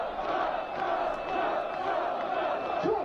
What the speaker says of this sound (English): It's a pretty big crowd